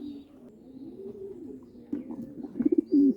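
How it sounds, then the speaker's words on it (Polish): A prize racing pigeon cooing close by, a low rolling coo building to a few louder pulsing calls at the end, over faint room hum. "Piękny gołąb."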